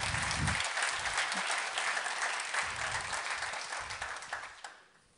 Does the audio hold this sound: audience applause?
yes